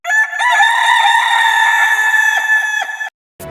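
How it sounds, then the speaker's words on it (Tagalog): A rooster crows in a school play performed by a grade 7 group, one long, loud, shrill cock-a-doodle-doo held for about three seconds, close and unaccompanied, followed by a brief silence and a soft thump. "Pagkatapos nito ay tumilaok ng tumilaok ang tandang."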